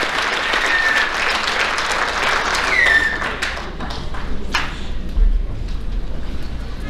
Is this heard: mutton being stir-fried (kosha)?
no